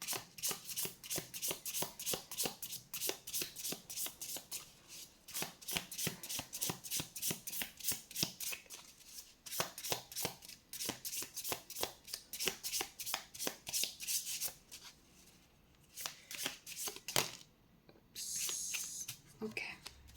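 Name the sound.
shuffling tarot cards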